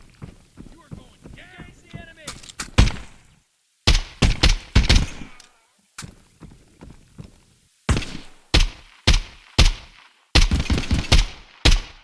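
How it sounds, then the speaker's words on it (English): Gunfire in the video game Contractors Showdown Exfilzone, fired at scavs in a town, comes as sharp, loud, close bursts of rapid shots in several clusters with short gaps and a brief spoken voice early on. "That guy took a lot of shots."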